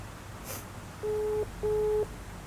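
Telephone ringback tone during dialing, two steady beeping tones about half a second each separated by a short gap, clear and close over low background hiss.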